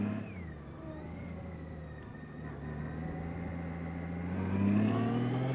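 A motorcycle is ridden faster through a turn, its engine droning steadily and then rising in pitch and loudness as it accelerates out of the bend, with no talking.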